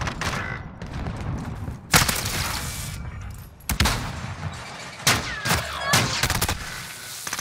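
Scattered gunshots and short bursts of fire from the video game Call of Duty Modern Warfare (2019), loud cracks separated by quieter gaps over steady game ambience, with no talking.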